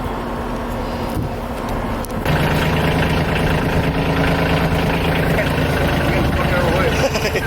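A tractor engine idles steadily in a backyard, a continuous low mechanical drone that grows louder and fuller after a couple of seconds and then holds at an even level.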